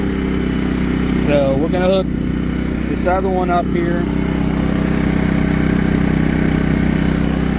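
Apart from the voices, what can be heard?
Firman WH03242 propane generator running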